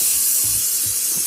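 An airbrush sprays paint onto paper in a loud, continuous high hiss, with faint low thumps underneath.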